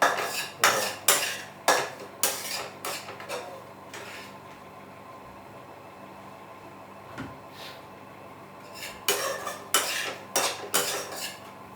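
Semolina being roasted in ghee for a dry-fruit sheera, with a spoon scraping and clinking against the pan in bursts of rapid strokes, a quieter pause in the middle, then steady stirring again.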